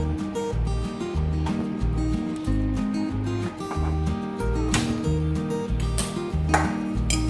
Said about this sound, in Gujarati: કઢાઈ મૂકી દઈશું.